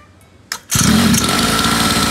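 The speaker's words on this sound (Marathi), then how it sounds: "आता बघूया कशी चालू होईल गाडी" A heavy sports motorcycle cranks on its electric starter and catches, bursting into a loud, steady close idle after a short quiet pause.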